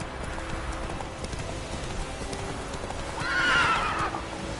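Hooves of a horse thud in a steady galloping rhythm in The Witcher 3 video game, and a clear, loud whinny rises over them near the end.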